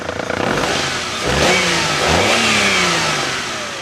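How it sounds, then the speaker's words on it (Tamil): A petrol Suzuki Wagon R car engine turns over and catches, then revs a couple of times before settling into a steady idle, close and loud, with no talking. "இன்ஜினை ஸ்டார்ட் பண்ணுங்கள் ஸ்டார்ட் ஆயிடுச்சு இன்ஜினோட நாய்ஸை லைவாக கேளுங்க"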